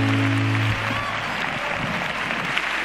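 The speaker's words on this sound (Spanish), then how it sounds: "un fuerte aplauso" Audience applause after a flamenco performance at the Andújar Flamenca festival, steady and full, with a brief tonal sound fading at the start.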